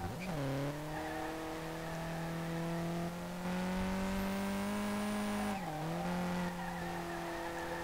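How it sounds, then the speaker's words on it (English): A turbocharged SR20DET R32 Skyline in the racing game SLRR, a loud droning engine note holding steady, dipping briefly and rising again, with whooshing turbo and blow-off hiss layered through it and no talking. "I really like the turbo sounds, though. Oh, it has the same blow-off as a rally Subaru."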